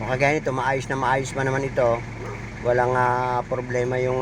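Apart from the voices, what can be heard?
No distinct noise like a dog, phone or traffic.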